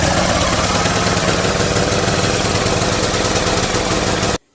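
A Briggs and Stratton engine with a replaced camshaft, choke on, runs loud, steady and close for about four seconds with a constant rough drone, then cuts off abruptly.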